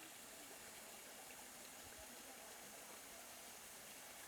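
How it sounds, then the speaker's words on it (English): A waterfall at a former quarry turned art valley in Pocheon, South Korea, gives off a steady, broad rushing roar that runs unbroken from start to finish, with no voices over it. "You can hear the waterfall."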